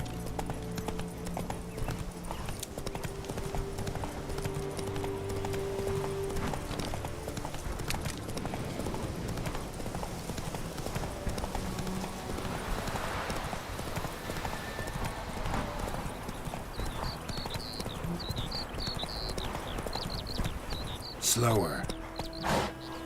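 Roach the horse from The Witcher 3 trots with a steady clip-clop of hooves throughout, layered under game music and ambience, with a brief whinny near the end.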